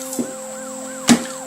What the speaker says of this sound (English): Officer King behind him, sirens blaring.